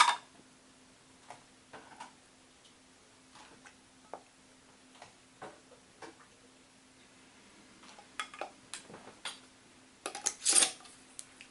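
Metal canning lids set on jar rims and screwed finger tight while canning cranberry juice, a scattered series of faint clinks and small metallic ticks, with a louder rattle of handling near the end.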